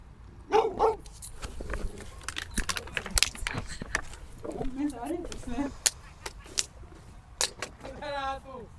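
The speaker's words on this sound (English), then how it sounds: "There's a dog barking at the players." A dog barks in short bursts at players on the field during a sports match final, amid a busy outdoor scene with people talking and calling out nearby.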